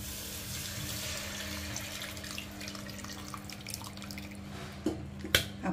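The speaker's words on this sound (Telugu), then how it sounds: "చింతపండు పులుసు వేస్తున్నాను" Tamarind juice is poured into a pan for bendakai pulusu, a soft continuous trickle and splash of liquid with faint drips, ending in a few sharper clinks and taps near the close.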